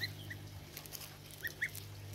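Embden cross goslings about one to two weeks old give a few short, soft peeps and chirps over a low steady hum, close by and fairly quiet.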